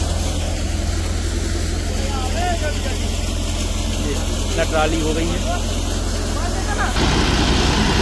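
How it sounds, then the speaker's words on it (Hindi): A John Deere 5405 tractor, 63 HP, runs a Vijay thresher during chickpea threshing on a farm, giving a steady loud mechanical drone throughout, with someone talking over it. "ये 5405 जॉन डीरे ट्रैक्टर है 63 HP और थ्रेसर इसमें लगा है विजय का"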